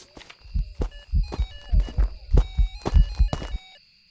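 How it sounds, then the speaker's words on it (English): Heartbeat effect in the horror game Phasmophobia, a close, deep double-thump pulse repeating about six times at a steady, quick rhythm over a faint hum, then stopping. "you could still hear my heartbeat after I took the photo"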